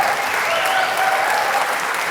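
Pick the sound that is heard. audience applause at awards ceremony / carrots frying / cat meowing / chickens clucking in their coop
audience applause at awards ceremony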